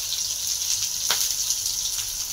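Curry leaves and onion frying in hot oil in a kadhai give a steady, close hiss of sizzling with a brief sharper crackle partway through, no voices.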